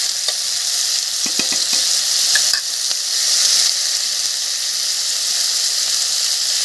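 Onion and cumin paste sizzles steadily in a hot pan while prawns, eggs and potatoes are being cooked, a loud continuous hiss with a few clicks and scrapes early on.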